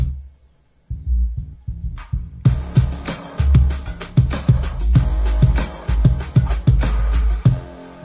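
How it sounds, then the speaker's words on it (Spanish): After a near-silent start, the bass, drums and percussion stems of a remix play together, with a steady, heavy thumping kick and bright percussion hits driving a tight groove. "Así es como suena bajo, batería y percusión."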